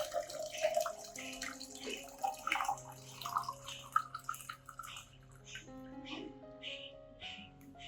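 Running water splashes and trickles steadily into a container while diluting orchid fertilizer, with faint clinks and a rising fill tone over several seconds.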